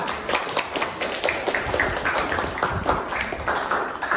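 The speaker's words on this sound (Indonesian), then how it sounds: "Beri aplaus untuk kelompok 3" A classroom group claps for group 3: dense, steady applause from a number of people that lasts a few seconds.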